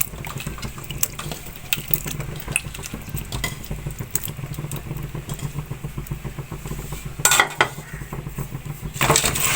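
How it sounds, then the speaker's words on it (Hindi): Large potatoes being fried in a pan for aloo matar curry: continuous sizzling with frequent metallic scrapes and clanks of a spoon against the pan, fairly close. "अब आलूओं को भी मैं थोड़ी देर भून लूंगी।"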